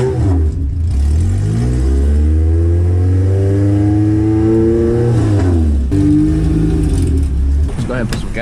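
A 310hp naturally aspirated Acura Integra with a big throttle body and big cams revs and accelerates from inside the cabin, its engine note climbing in rising sweeps, easing off, then pulling again loudly and close.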